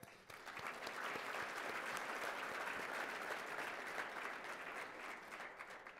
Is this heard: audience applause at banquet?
yes